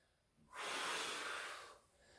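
A single deep inhalation during a core exercise, a breathy rush lasting about a second, close and fairly soft, with quiet room tone before and after.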